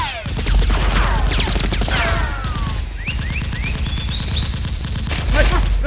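Rapid bursts of toy Nerf blaster fire from a mock police and SEAL team battle, popping in dense volleys with thumps and zips, busy and close throughout, with shouting voices mixed in.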